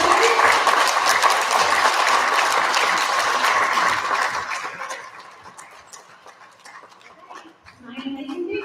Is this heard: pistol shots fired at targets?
no